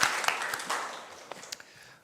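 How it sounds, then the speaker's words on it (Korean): A church congregation at a Sunday morning service applauds warmly, the dense clapping starting loud and gradually thinning to a few last claps as it fades. "하나님께 영광의 박수 올립니다"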